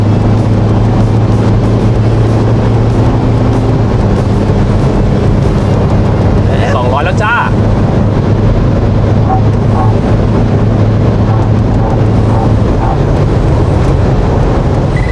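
Isuzu MU-X SUV, tuned to about 380 horsepower, pulling steadily in fifth gear at about 3,000 rpm: a loud, continuous engine drone with road and wind noise inside the cabin.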